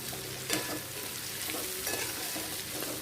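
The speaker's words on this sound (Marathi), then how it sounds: "याला छान आता परतवून घेतलेला आहे आपण" Raw banana sabzi sautés in a pan with a steady, close sizzle, as a spatula stirs and scrapes through it in a few soft strokes, and no one speaks.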